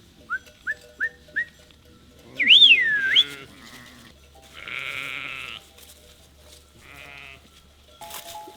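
Sheep bleat several times, loud and close, with a few short whistles at the start and a high whistle-like call in the middle.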